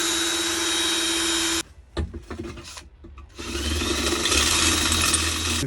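A drill bores rivet holes through a metal hatch cover sheet on a Land Rover Defender repair, a loud steady whine that stops and gives way to scraping and clatter, then starts again and runs until the end.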